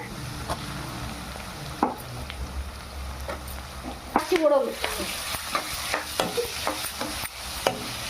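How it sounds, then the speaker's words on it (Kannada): Chili and onion fry in a pan while being stirred for a drumstick-leaf dish, a close steady sizzle punctuated by repeated scraping strokes and utensil knocks that grow busier toward the end. "ಈಗ ಚೆನ್ನಾಗಿ ಫ್ರೈ ಮಾಡ್ಕೋಬೇಕು ಚಿಲ್ಲಿನ"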